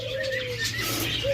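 A pair of green Fischer's lovebirds with red beaks calls in short, bright chirps over a steady low hum, with a few chirps close together near the end.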